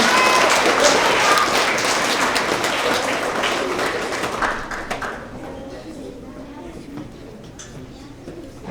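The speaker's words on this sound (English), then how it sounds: "Let's give another round of applause for all of these amazing readers." Children and adults in a school assembly clap for student readers, a dense, steady round of applause that gradually thins and fades toward the end.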